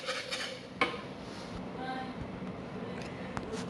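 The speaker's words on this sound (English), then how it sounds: "next step is to mix the sugar and the brown butter" Sugar and brown butter being mixed in a bowl for microwave cookies, with utensil clinks and scraping against the bowl, one sharper knock near the start and another later, steady and close.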